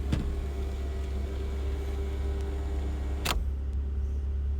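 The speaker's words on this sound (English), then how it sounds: "I forgot to show you that the sunroof" A 1995 Toyota Mark 2 Tourer V sits with its sunroof motor running, a low steady electric whir over a constant engine hum, with two sharp clicks at the start and end.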